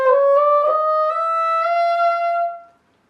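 A bassoon plays sustained notes in its highest octave, a thin, narrow-toned line of a few connected pitches heard alone before fading into silence.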